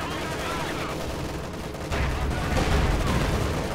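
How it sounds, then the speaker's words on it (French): Panzer IV tank cannon rounds hit a KV-1 in Company of Heroes 2, amid a dense, loud barrage of battle gunfire with a heavier thump partway through. "Voilà, deux tirs ont pénétré."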